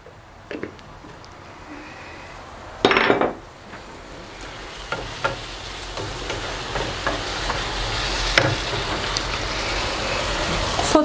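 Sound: sautéing tomatoes in a pan

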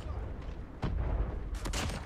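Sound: Shotgun firing in Call of Duty video game

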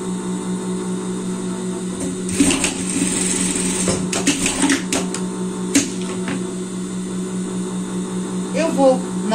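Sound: sewing machine stitching shoulder seam of child's garment

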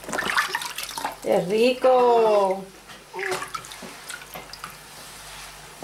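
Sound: water splashing while bathing a baby

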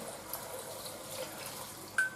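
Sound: water poured into a pressure cooker

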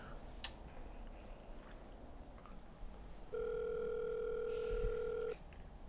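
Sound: phone ringback tone, call going unanswered

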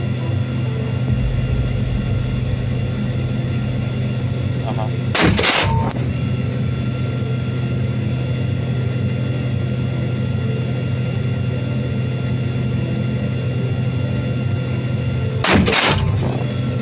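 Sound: explosions from Russian T-80 tank attack

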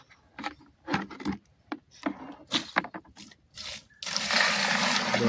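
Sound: hot water being poured into dissolved lime

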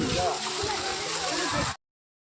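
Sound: fountain water running at a temple

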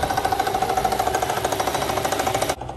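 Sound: Mercedes-Benz W220 S600 V12 engine running smoothly

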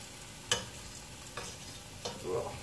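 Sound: breakfast sausage sizzling as it fries in a pan

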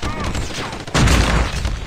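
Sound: gunfire in Call of Duty Mobile video game

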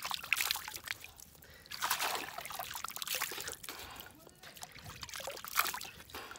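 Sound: splashing Jamuna river water while washing face

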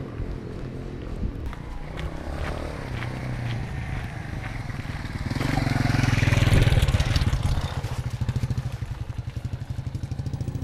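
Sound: motorcycle engine idling

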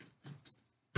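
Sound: cutting tape with a pair of scissors

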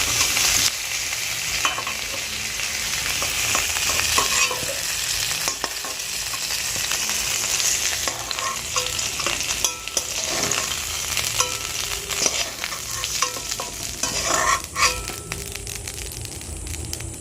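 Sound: pointed gourd slices frying and stirred in a pan

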